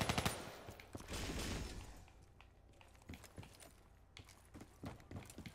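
Gunfire in the video game Black Ops 3, a loud rapid burst at first followed by scattered single cracks and short volleys, quieter and more spaced out toward the end.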